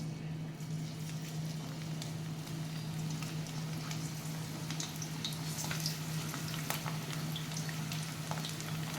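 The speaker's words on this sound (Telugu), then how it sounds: "ఇదిగోండి నూనె కాగింది మామూలు పకోడీ వేసుకున్నట్టే" Ivy gourd pakoda frying in hot oil, a steady, even sizzle and crackle with a constant hum beneath, close and unbroken throughout with no one speaking.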